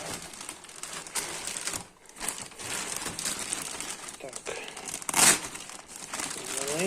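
Plastic AliExpress parcel bag crinkling and rustling near the mic, with a sharper crackle burst about two-thirds through, no talk over it.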